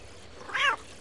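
A single cat meow in the video game Postal 2, a short rising-and-falling cry lasting about a quarter second, clear over a faint background.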